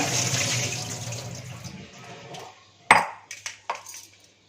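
Soaking water drains off sliced sweet potatoes in a kitchen, a steady rushing pour that fades after about two seconds, followed by a few sharp knocks and clatters.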